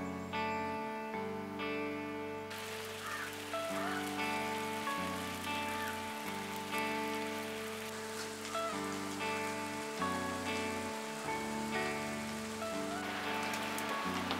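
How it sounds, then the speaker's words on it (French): Heavy rain falls in Nepal, a dense, steady downpour that drums continuously on surfaces for the whole stretch, close and fairly loud, with no voices. "On la voit, la pluie tomber, là"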